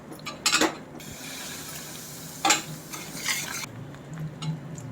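A spoon scrapes and clinks against a kadai while Mysore pak mixture is stirred, giving irregular metallic scraping bursts over a steady low sizzling background, close and moderately loud.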